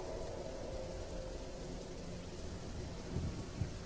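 Heavy rain pours steadily as a dense, even hiss, with low rumbles of thunder rolling underneath and a couple of brief deeper swells near the end.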